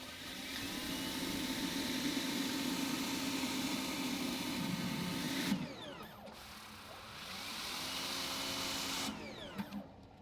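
An EGO 3200 battery pressure washer running on high with a surface cleaner attachment, a loud steady motor drone with spraying hiss that cuts off, pauses briefly, then resumes before stopping again.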